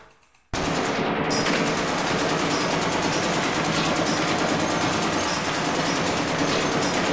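Sustained rapid automatic gunfire erupts abruptly after a short quiet moment in a video game and rattles on loudly and continuously without pause.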